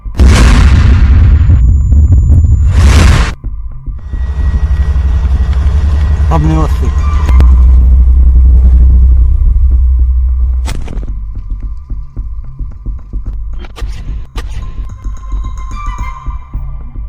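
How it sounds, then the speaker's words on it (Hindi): A heavy, booming blast with a deep rumble opens, followed by a second burst, then a lingering low roar and scattered sharp pops fading out; an explosive strike in Gaza near an Israeli army tank. "तभी उनके ऊपर एक विस्फोटक आकर गिरा, जिसमें जोरदार ब्लास्ट हुआ"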